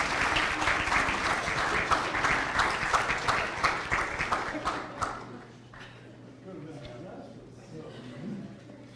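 Audience applause welcoming a lecturer in a university lecture hall, a dense burst of clapping that fades out after about five seconds, followed by quiet room tone and a voice starting to speak.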